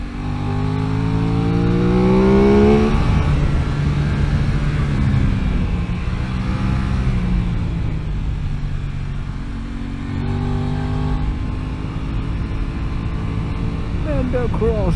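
An Aprilia RS660 motorcycle engine on a race track revs up through the gears from an onboard position, loud and continuous, its pitch rising and falling as it accelerates and shifts, with a rider talking over it.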